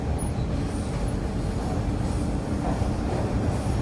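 A Toronto Bloor-Danforth subway train rumbles steadily along covered tracks, a loud continuous roar with faint high squeals from the wheels.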